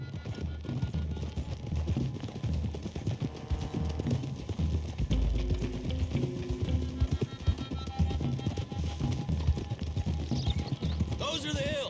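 Horses gallop in Red Dead Redemption 2 with steady, rapid hoofbeats under music and occasional voices, a busy, continuous clatter with a whinny near the end.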